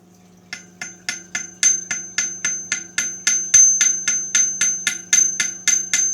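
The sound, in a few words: hammering a part into place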